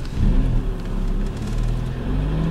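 Close, steady engine hum with rising whir from a 750 cc, 31-horsepower Fiat Panda pulling away, the motor note climbing gently as the small car sets off.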